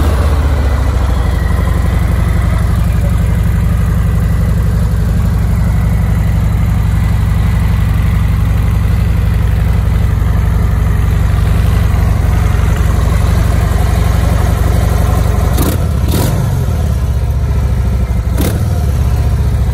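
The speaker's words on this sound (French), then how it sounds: "je vais vous écouter la moto tout de suite" Harley Davidson FXDR 114 motorcycle engine idling steadily at close range with a deep, loud rumble, then blipped with two or three sharp revs near the end.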